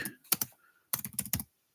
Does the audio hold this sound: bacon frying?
no